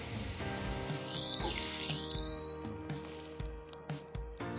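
Chopped tomatoes and onions sauté in a pan with a steady close sizzle, punctuated by a few soft scrapes and knocks of a spatula; a faint tonal whine rises in the background and no one speaks.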